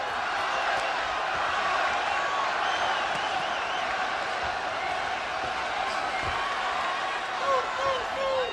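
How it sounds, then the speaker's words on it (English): Boxing crowd in an arena roaring as Chavez lands a left hook on Robinson, a dense, steady wall of cheering that stays loud throughout, with faint voices mixed in. "And the crowd comes alive."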